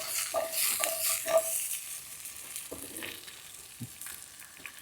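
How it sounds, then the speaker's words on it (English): Peppers sizzle and crackle in a hot pan while being stir-fried, with a spoon scraping and clinking against the metal, the hiss strongest early and then easing into quieter stirring. "The term stir fry comes from the movement while you're cooking and stirring."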